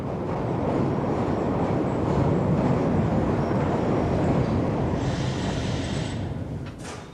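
A Glasgow Underground subway train in 1977 rumbles steadily along the track, with a brief high squeal of wheels near the end; no voices.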